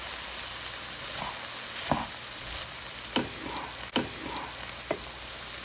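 Rice frying in a pan gives a steady, moderately loud sizzle, broken by several sharp scrapes and clinks of stirring spread across the stretch, with no voices.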